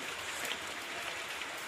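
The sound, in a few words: rain falling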